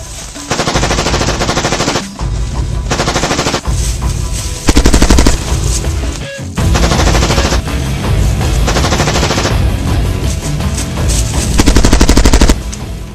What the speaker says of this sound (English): Shut the f*** up, Private, and shoot your weapon!